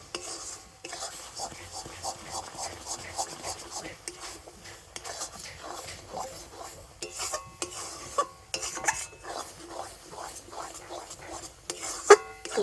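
Spoon stirring a raw mango mixture thickened with cornflour in a pan, repeated soft scraping and rubbing strokes in an uneven rhythm, close and fairly quiet, with a voice talking over it.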